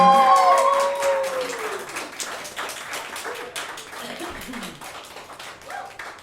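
A small live audience claps after a song at a West Virginia music-on-main show, scattered close applause fading after a lingering sung note, with loose claps continuing throughout.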